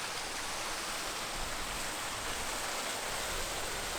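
A Peak District waterfall running low gives a steady, soft broadband rush of falling water, faint and even throughout with no talk.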